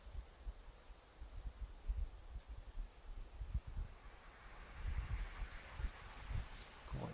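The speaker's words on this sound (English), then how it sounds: "A fair bit of wind blowing in them pine trees." Wind blows through pine trees on a hilltop, a soft continuous rushing hiss with gusty low buffeting against the microphone, fairly quiet and with no voices.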